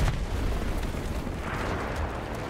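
Enemy tank cannon fire in the WW2 shooter Enlisted: heavy booms roll through a dense, continuous low battlefield rumble, with no voices.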